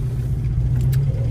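A Plymouth Cricket with a three-speed Borg Warner automatic drives slowly, its engine a steady low rumble heard from inside the car.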